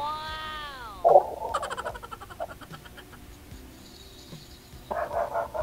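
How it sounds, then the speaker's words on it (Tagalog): A dog barks a few times at moderate distance amid background noise, with a sharp burst early on and scattered yaps after. "Ayun, tumatahol na yung aso."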